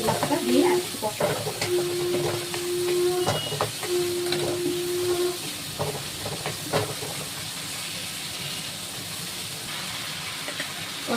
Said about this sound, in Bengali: এটাকে আমি এবার ভালো করে কষাবো, যতক্ষণ না এই আদা জিরে দিয়েছি, কাঁচা টমেটোটা দিয়েছি